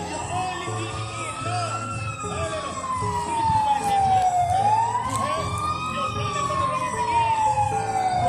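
A fire truck siren wails at the scene of a medical emergency, rising and falling loudly and up close over a crowd's murmur and scattered voices.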